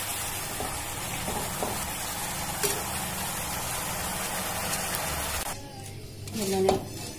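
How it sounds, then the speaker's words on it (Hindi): Fafda frying in hot oil, a steady bubbling sizzle with scraping and clinking of a utensil in the pan, then the sizzle drops away near the end. "बबल्स आने लग गए हैं, इसका मतलब हमारे फाफड़े बिल्कुल परफेक्ट बने हैं"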